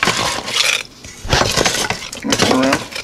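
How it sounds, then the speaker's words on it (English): Chicken mac and cheese being stirred in a pressure cooker, with close, loud metallic scraping and clinking of a utensil against the pot coming in three bursts separated by short pauses. "Stir it up a little bit."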